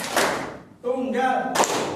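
A group in a teacher-training classroom claps once in unison on command, a short burst, with a voice in between and a second sharp clap near the end.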